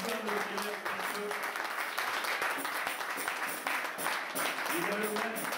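A church congregation applauding in a steady, dense wash of clapping that fills the room, with voices heard over it throughout.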